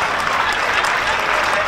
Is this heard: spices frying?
no